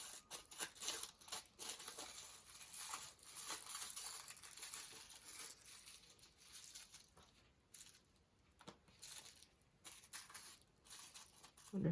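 Scissors snip through scattered paper scraps and card for a grungy junk journal page, crinkly rustling cuts repeating unevenly at close range.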